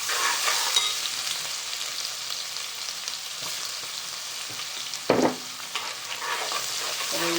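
Ginger and garlic sizzle in hot oil while being stirred for a dry fish curry, a steady close crackle with the scrape of a spoon against the pan now and then.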